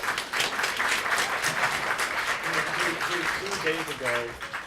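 A theater audience at a community performing arts show claps in a sustained round of applause, steady and fairly close, with a voice speaking over the clapping toward the end.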